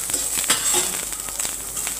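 Soft dry crackling and light scraping as something is dry-roasted and stirred in a hot pan, steady and close, with small irregular clicks.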